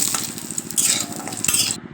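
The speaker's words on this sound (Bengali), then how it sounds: "বড়িগুলো সর্ষের তেলে ভাজবো" Chickpea-lentil dumplings (bori) frying in mustard oil, a close crackling sizzle with quick clinks and scrapes of a utensil against the pan over two seconds.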